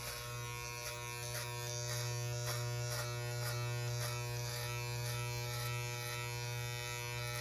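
Electric hair clippers shave a head, giving a steady close buzz with a strong low hum. Faint rhythmic pulses repeat about twice a second as the clippers move over the scalp.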